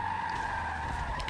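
Sustained tire squeal as a car spins out and skids in Forza Motorsport 7, with a steady engine drone underneath, loud and continuous throughout a short burst.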